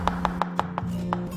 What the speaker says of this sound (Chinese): 那我们第2步用刀给它剁细一点